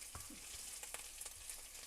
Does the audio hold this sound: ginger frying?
yes